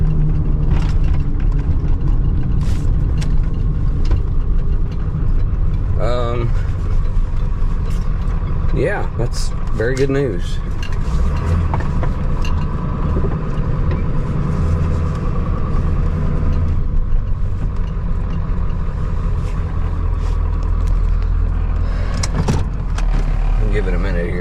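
The 7.3 Powerstroke diesel in a 1996 Ford F250 idles with a steady, low rumble throughout. Occasional clinks and rattles can be heard, and someone talks briefly over the engine.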